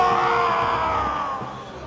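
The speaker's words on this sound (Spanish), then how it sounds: "el espíritu maligno sacudió al hombre violentamente y salió de él dando un alarido" A dramatized scream from a man as an evil spirit leaves him: a loud, sustained anguished cry that holds for almost two seconds before tapering off, close and alone.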